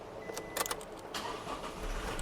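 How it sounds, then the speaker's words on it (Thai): A 2023 Toyota Revo 2.4Z-Edition Entry pickup with automatic transmission, keys jangling and clicks first, then the engine cranking and catching into a low idle, close up and loud. "ขออนุญาตสตาร์ทรถแป๊บหนึ่งนะ"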